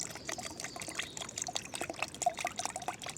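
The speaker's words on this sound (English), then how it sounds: "Then you want to fill it up with 500 millilitres of water." Water pours into a shaker bottle holding a scoop of drink powder, a steady trickling fill lasting a few seconds, close and fairly quiet with no talking.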